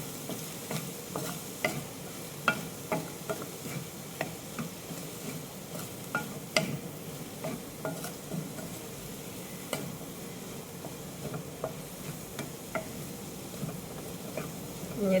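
A spatula sautés food seasoned with salt and pepper powder in a pan, scraping in a steady rhythm about once a second. A low sizzle runs underneath the strokes the whole time.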